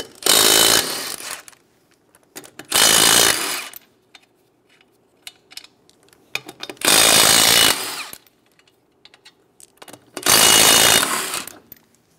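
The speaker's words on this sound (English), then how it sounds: "Using a 21 millimeter socket, remove the four lug nuts." Impact wrench driving a 21 mm socket off the lug nuts of a 2007-2012 Nissan Versa rear wheel, four loud separate hammering bursts of about a second each, close up, with short quiet gaps and no talk.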